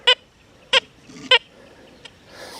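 Three short, sharp electronic beeps at roughly even spacing from a Deus 2 metal detector with an HF2 coil signalling iron, followed by a fainter blip and a soft warbling tone, clear and close.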